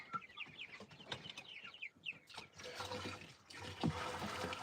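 Chickens clucking close by in a backyard coop, a cluster of soft chattering clucks and calls followed by a louder, rougher stretch of flock noise.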